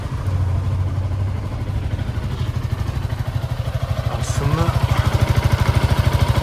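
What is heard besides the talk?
motorcycle engine starting and idling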